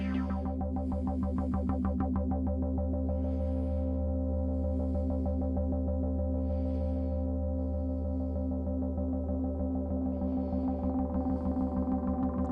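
Moog Matriarch synthesizer playing a complex evolving pad with delay, a sustained low drone with repeating echoed pulses and bursts of airy noise that fade in and out, moderately quiet and steady throughout.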